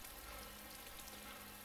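Rain falls in the video game DayZ as a faint, steady hiss of dense patter with no distinct drops standing out, continuous throughout.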